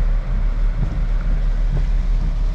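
An automatic car wash blasts water over a car with its windshield wipers on, heard from inside as a loud, continuous rushing roar with no talking.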